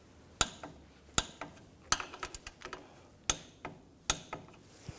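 A hand ratchet tightening a nut on a 2015-2020 Cadillac Escalade front suspension during shock absorber replacement, giving sharp clicking bursts in uneven strokes with pauses between, close and fairly quiet.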